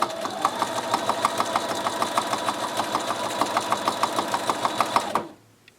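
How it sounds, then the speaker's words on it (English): A sewing machine stitches through quilt fabric in a steady, rapid mechanical rhythm of regular needle clicks over a motor hum, running continuously and close up before stopping abruptly. "Now, when I begin to stitch, my hands are moving the fabric, and the speed that I'm stitching and how fast my hands are moving, that determines my stitch length."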